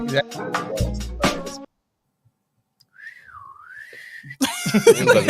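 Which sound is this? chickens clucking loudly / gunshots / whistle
whistle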